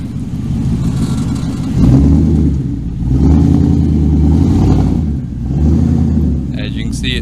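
A 2003 Ford F150 4x4 climbs a hill in four-wheel drive high. The engine is loud and close, with a low rumble that swells and eases in repeated surges as it pulls up the slope.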